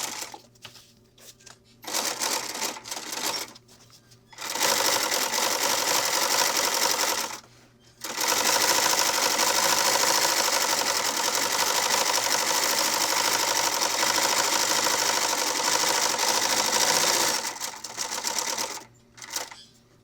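A sewing machine stitches a bag in long, steady, close bursts with brief pauses between runs, while a person talks quietly in the background.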